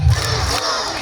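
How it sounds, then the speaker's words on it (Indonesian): An audience at a storytelling event for Islamic boarding school students in Sleman Timur claps while shouting "hu" together, a single loud, close burst of group voices with a thump of clapping. "Tepuknya sambil teriak hu."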